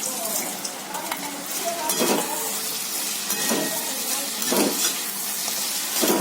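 Pakodas being stirred into a simmering brinjal curry in a pan, with a spoon scraping and clinking against the vessel in repeated strokes over a steady sizzle, close and moderately loud.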